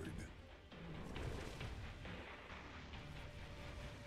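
A Dominion barricade is destroyed in the StarCraft 2 video game, giving a heavy rumbling blast with dense battle noise that swells and then rolls on steadily.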